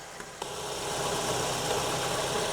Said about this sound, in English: Let me shut off the engine